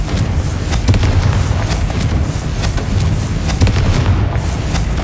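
In the Hogwarts Legacy video game, a Confringo blasting spell explodes. A loud, dense rumbling blast with sharp cracks through it fills the whole stretch.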